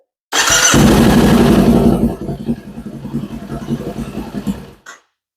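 A motorcycle engine fires up and revs loudly for a couple of seconds, then settles into a rougher, quieter idle before cutting off.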